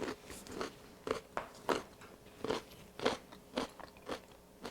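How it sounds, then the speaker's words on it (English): Someone bites and crunches through a whole raw carrot, giving about nine close, crisp crunches in a fairly even rhythm, with quieter chewing between them and no talking. "Maybe I shouldn't have bit the whole carrot."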